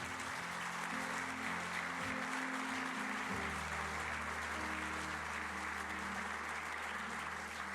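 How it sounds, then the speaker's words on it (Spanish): Sustained applause from a church congregation during a sermon, a steady dense wash of clapping throughout with sustained low tones from instruments or organ underneath. "Dele un aplauso al Señor."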